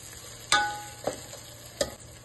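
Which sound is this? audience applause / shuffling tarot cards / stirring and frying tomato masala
stirring and frying tomato masala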